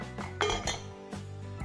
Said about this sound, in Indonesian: Terus kita masukkan semua bahan